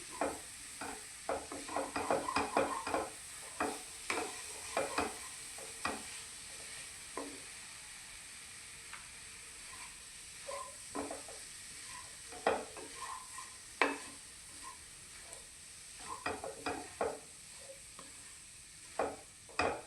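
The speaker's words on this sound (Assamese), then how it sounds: "ইয়াতে মই এতিয়া 2টা ইলাচি দি দিছোঁ আৰু এইখিনি এতিয়া লৰাই লৰাই ভাজি থাকিম।" Coconut laddu mixture made with jaggery and cardamom, stirred and fried in a pan. Close, repeated scraping strokes sound over a soft, steady sizzle, with an uneven rhythm and no voices.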